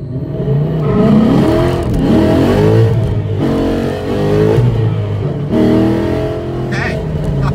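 Ford Mustang Boss 302 revving hard through first gear, its engine note climbing loud and close in rising sweeps, easing off briefly and pulling again several times across the run.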